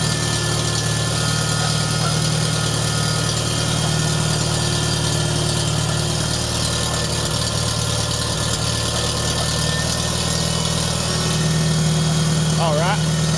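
A 1973 IH Farmall 140 tractor engine idling as it warms up on choke, a steady low rumbling drone with even vibration, held close and constant throughout.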